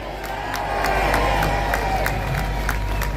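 A rally crowd at a Unite the Kingdom event applauds and cheers in a steady, distant wash of clapping and crowd noise that swells slightly and holds throughout.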